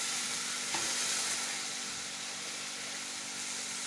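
Washed banana flower is dropped into a hot pan of oil with chilli powder and sizzles hard, a dense, steady hiss of frying that continues for several seconds with a faint knock near the start and no talking.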